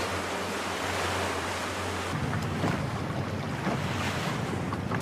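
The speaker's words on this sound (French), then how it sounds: "Il y a un petit peu de vagues qui sont faites par les bateaux qui passent." Small sea waves stirred up by passing boats wash steadily on the Mediterranean under light wind, a constant broadband hiss that grows a little rougher partway through.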